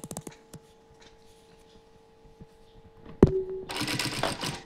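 A domestic sewing machine stitches a cotton housecoat, starting with faint mechanical ticking and hum, then a sharp click followed by a louder, dense burst of rapid stitching toward the end.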